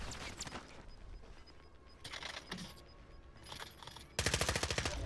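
Gunfire rattles in Warzone: scattered distant shots and short bursts early, then a loud, rapid automatic burst near the end, with no talk over it.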